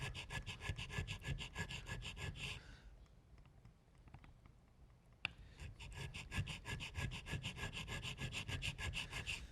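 Rapid rhythmic rasping strokes of a hand checkering tool cutting lines into a wooden gun stock, close and quiet, in two bursts of fast back-and-forth filing separated by a pause of a few seconds with a sharp click.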